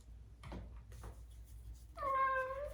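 A pet cat meows indoors during a tarot card reading, one clear drawn-out meow near the end after a stretch of quiet room sound with faint handling noises.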